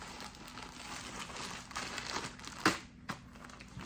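A plastic bag of sesame seeds crinkles and rustles up close, with a sharper crackle near the end followed by a softer one.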